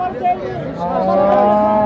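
A Friesian crossbred dairy cow gives a loud, close, drawn-out moo that rises and holds at a cattle market, with faint crowd murmur behind it.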